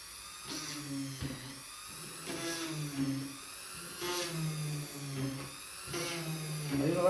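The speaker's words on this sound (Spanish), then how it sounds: "Después estamos listos y empezamos a perforar." At a handicraft class, an electric drill bores a hole with a drill bit. Its whining motor rises and falls in several separate bursts, close and fairly quiet, with no talking.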